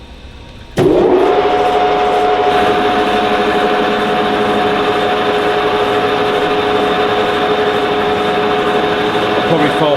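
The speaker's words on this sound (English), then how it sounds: "So I'm just going to machine this bugger up now, get all the rust off it" A powered machining tool, such as a grinder or wire wheel, strips rust from long-neglected old metal being reused for a workshop trolley. It runs as a loud, steady, high-pitched whine that starts abruptly after a moment of quiet and continues unbroken to the end.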